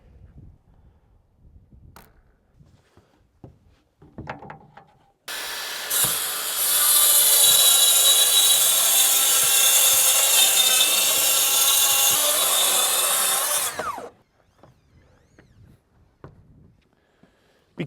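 A power saw cuts lumber for a wraparound porch roof with a hip and valley, a loud, steady buzzing cut of about eight seconds, starting abruptly and stopping sharply, with quiet scuffs and handling noises before and after.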